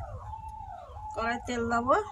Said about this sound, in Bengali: হুগুরে শিয়াল ডাকে